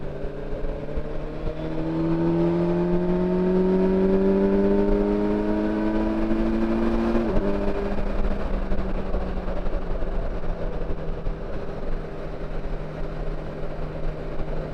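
Motorbikes riding past on a road trip in Slovakia: a rising engine drone that builds, peaks and drops in pitch as it passes, then fades into a steady background rumble.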